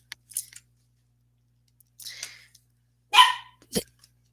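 A few short, sharp puppy barks and yips, spaced irregularly with quiet gaps between them, fairly close.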